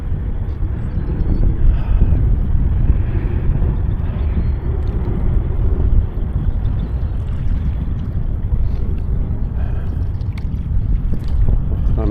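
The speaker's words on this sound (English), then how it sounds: "Wind." High wind buffets the open shore of a lake, producing a constant heavy low rumble and blustering roar with no pauses.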